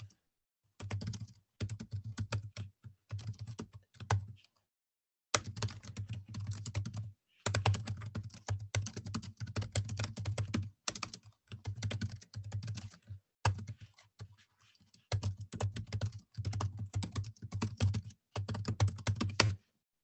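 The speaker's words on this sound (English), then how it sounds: "I'm trying to type it fast." Fast typing on a computer keyboard, rapid clattering keystrokes in long runs broken by brief pauses, close and clear with no talk.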